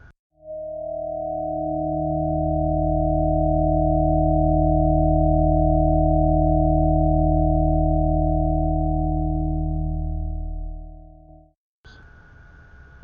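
A synthesized tone built from stacked partials with lower-octave duplications of the 16th partial swells in and holds as a steady, pure, layered drone for about eleven seconds before cutting off abruptly.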